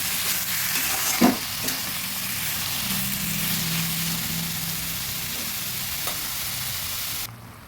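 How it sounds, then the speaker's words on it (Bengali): Prawns and ash gourd stirred in a frying pan, a steady close sizzle with a sharp scrape of the spatula near the start and softer stirring scrapes throughout. "ভালোভাবে নেড়ে দিচ্ছি এতে জলটা শুকানোর সমস্যা হয় না"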